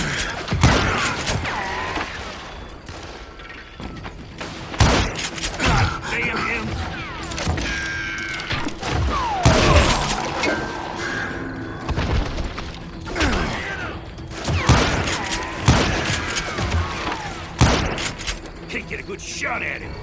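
Scattered gunshots and impact thumps from the Western video game Call of Juarez: Gunslinger ring out amid mechanical clicks and game effects, with voices speaking over the action.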